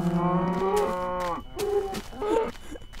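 Cows mooing in Minecraft as they spawn, two or three drawn-out moos in quick succession, loud and close with a low background hum and no talk.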